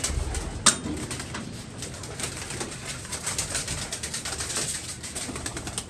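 Golden pigeons coo softly in the background amid outdoor noise, with a sharp clatter near the start and intermittent fluttering sounds.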